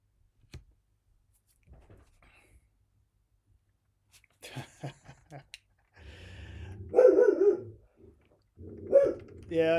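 A dog barks indoors during a live home programming session, a few short, fairly close barks rising out of quiet clicks and rustling, loudest toward the end.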